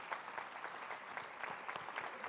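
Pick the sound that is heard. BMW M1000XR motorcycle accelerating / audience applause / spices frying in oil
audience applause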